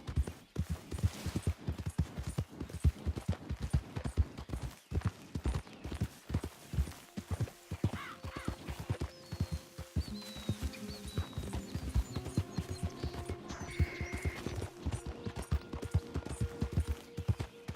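Horse hooves clip-clop steadily in Red Dead Redemption 2, a close, rhythmic run of sharp hoofbeats on hard ground lasting throughout, with faint game music and sound effects entering partway.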